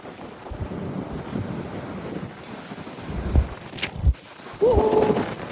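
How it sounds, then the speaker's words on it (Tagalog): Strong wind gusts buffet the microphone in a rough, uneven roar by open water, with a few sharp knocks and a brief shout near the end. "Lakas ang hangin."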